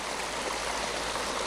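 A stream runs during a loop walk near Mae-Rim, Chiang Mai, Thailand, a steady close rush and gurgle of flowing water filling the scene with no breaks.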